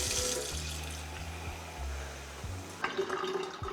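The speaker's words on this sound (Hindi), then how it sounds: "नल से अपने ग्लास में" Water running from a kitchen tap into a glass on a snowy day, a steady rushing stream with low gurgling tones shifting as the glass fills, then a brighter splashing burst near the end.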